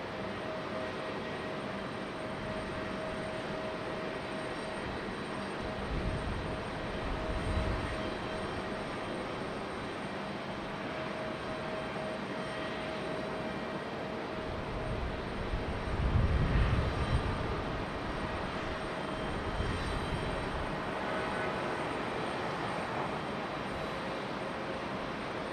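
Jet airliner at Raleigh Durham International Airport, its engines a steady distant rumbling drone that swells briefly twice, with no talk.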